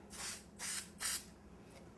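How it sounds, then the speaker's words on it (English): Spray adhesive hisses from an aerosol can onto the back of a jar label in three short bursts close by, followed by a sharp knock at the end. "So I'm just going to put a little spray adhesive on the back"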